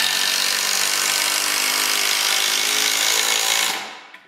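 Power drill driving screws at an angle through a wooden tenon into a leg during assembly of a foot stool or table, a steady loud whirring whine that runs continuously, then stops abruptly near the end.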